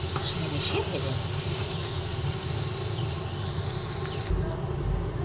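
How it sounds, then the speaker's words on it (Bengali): Spices with Kashmiri chili powder fry in a pan, giving a steady close hiss and sizzle with faint scraping, until the sizzle drops off sharply near the end. "আবার কাশ্মীরি লঙ্কার গুঁড়োটা ভালোভাবে মিশিয়ে ভেজে নিচ্ছি।"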